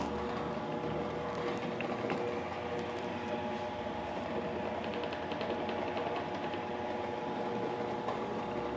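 A dough sheeting machine rolls dusted sesame cracker dough as a steady, even mechanical hum with a faint rhythmic whir, continuous and moderately quiet throughout.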